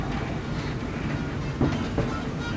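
The Disneyland Railroad train runs along its rails in Disneyland park, California, producing a steady close rumble broken by a couple of sharp clacks from the wheels, with no talking.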